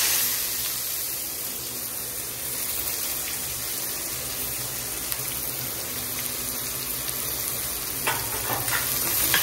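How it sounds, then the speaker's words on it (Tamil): Finely chopped onions sauté in hot oil with bay leaf and cardamom for a cashew curry, giving a steady, even sizzle with faint stirring and no voices. "நல்லா வதக்கிக்கோங்க. ப்ரௌன் கலர்ல வரட்டு."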